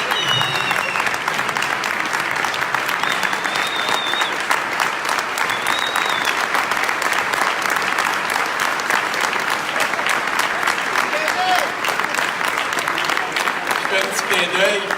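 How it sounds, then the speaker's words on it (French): An audience at a political party general council in Quebec bursts into sustained, dense applause, loud and close throughout, with a voice speaking faintly over the clapping. "Oui, je pense qu'on peut se lever pour leur donner une main d'applaudissement."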